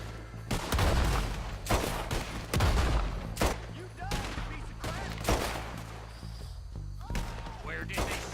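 Repeated heavy blasts from a shotgun pistol in Red Dead Redemption, several loud booming shots spaced irregularly amid other gunfire, with voices shouting between them.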